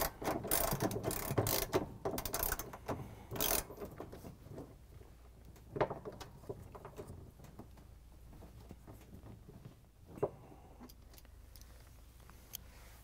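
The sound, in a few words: ratchet with socket tightening washing machine pulley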